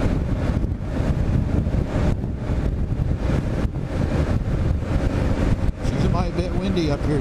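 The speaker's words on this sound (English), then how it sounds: "bit windy up here today, and it gets windy on these bridges" Heavy wind roar buffets the microphone while riding a KLR650 motorcycle across a high bridge over water near Duluth, Minnesota, a steady loud rush with engine drone underneath and a voice talking over it.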